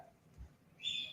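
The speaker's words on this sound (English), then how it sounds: "you hear that fucking bird chirping in the background?" A single faint, high bird chirp rises near the end over quiet background hiss, brief and somewhat distant.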